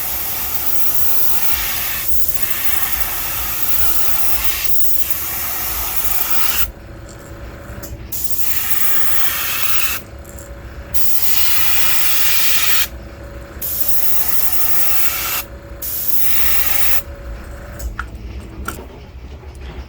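An airbrush sprays darker sepia shading down the back of a fishing lure, giving a steady loud hiss in repeated bursts with brief pauses between passes.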